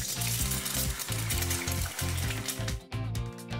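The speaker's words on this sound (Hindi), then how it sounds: "मैं पैन गर्म करूँगा और अंडा फ्राई करता हूँ।" An egg fries in a hot pan with a loud, steady crackling sizzle and bursts of spattering, close by and without any talking.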